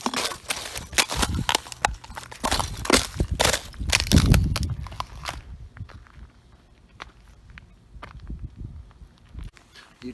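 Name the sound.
breaking the ice out of puddles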